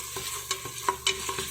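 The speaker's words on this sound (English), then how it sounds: "But I am using the pressure cooker to saute the onions now." Onions sauté in a WMF pressure cooker, with a soft continuous sizzle and a few light stirring scrapes and taps close by.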